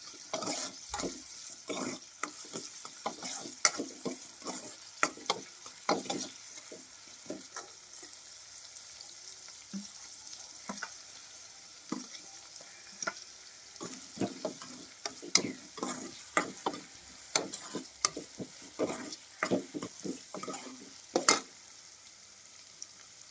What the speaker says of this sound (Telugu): ఉల్లిపాయలు పచ్చిమిరకలు అయితే కొంచెం అయితే మగ్గినాయి